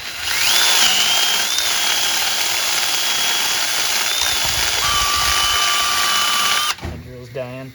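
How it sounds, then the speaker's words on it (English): A power drill with a wire wheel whines continuously at high speed cleaning out an 80s moped cylinder, steady and close, with a pitch shift partway through, then stops and a voice begins. "I'm gonna clean out this cylinder with just some random wire wheels."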